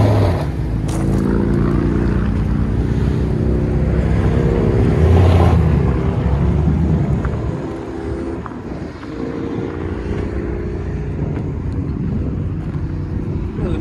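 A 2012 Toyota Tundra 4x4 with a 5.7L i-FORCE V8 and a custom Dirty Deeds exhaust gives a loud, deep, steady rumble outdoors, swelling slightly before easing off, with some wind noise.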